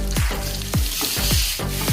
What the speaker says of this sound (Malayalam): ബട്ടർ ചൂടായി നമുക്കിനി പാൽ ഇട്ട് കൊടുക്കാം.